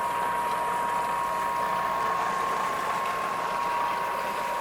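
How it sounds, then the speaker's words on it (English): Waukesha Model C series 328 stainless steel sanitary centrifugal pump, freshly rebuilt with new seal and motor bearings, running steadily into a test tank: a constant mechanical whine and hum with a faint watery churn, close and unbroken. "this is a Waukesha sanitary centrifugal pump. We've just finished rebuilding. It's running right now."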